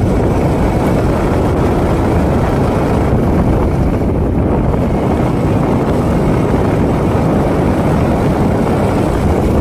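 A motorcycle riding toward Gauripur, its engine drone buried under a loud, steady roar of wind buffeting the microphone throughout, with no voices.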